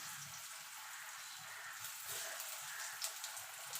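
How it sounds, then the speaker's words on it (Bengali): Lentil dhoka cakes frying in hot oil, giving an even, dense sizzle with faint irregular popping, close by and steady with no voices. "এপিট ওপিট করে লাল লাল করে ভেজে নেব।"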